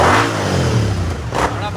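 A superbike engine revs up close in one loud, short burst, with voices around it.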